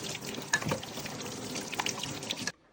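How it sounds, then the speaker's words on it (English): Water splashing from a faucet over cooked pasta in a kitchen, a steady close pour with small sputters, cutting off abruptly near the end. "Going to cool this off with a little water."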